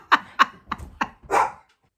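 Tilly the dog gives a quick series of sharp barks close by indoors, four short yaps followed by a longer, rougher one, with no talking.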